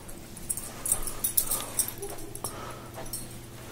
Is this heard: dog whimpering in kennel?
yes